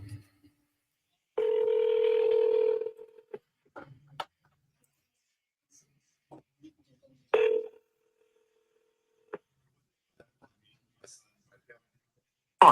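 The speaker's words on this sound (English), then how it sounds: "Let's redial." A phone being redialed after a call went to voicemail: a sustained steady electronic tone for about a second and a half, then a few short beeps and faint clicks spread through otherwise quiet surroundings.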